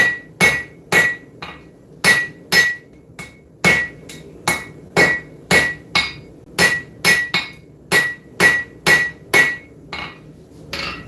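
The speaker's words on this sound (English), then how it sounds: "Using the Two Basterds dog head hammer." A dog head hammer strikes metal repeatedly in a steady rhythm, each blow a sharp ringing clang, loud and close, with no talking.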